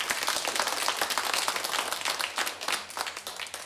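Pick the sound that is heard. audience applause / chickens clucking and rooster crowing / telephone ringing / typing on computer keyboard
audience applause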